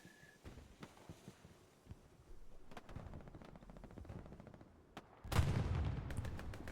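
Distant scattered gunfire in the World War II video game Hell Let Loose on Utah Beach, faint sporadic shots building to a louder burst near the end.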